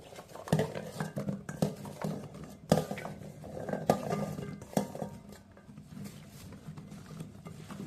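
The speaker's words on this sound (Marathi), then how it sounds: "शेंगा अशा कालवायच्या." Goan drumstick pods tossed and stirred by hand or spoon in a pot with thick spice paste and a little water, giving repeated clattering knocks and scraping against the metal pot, close and fairly loud, with no talk.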